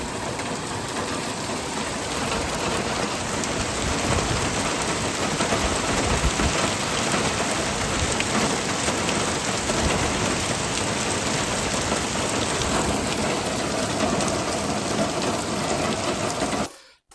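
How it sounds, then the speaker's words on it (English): Hail falling in a dense, continuous roar of tiny impacts that stays loud and even for about seventeen seconds, then cuts off abruptly, with no voices. "Hail."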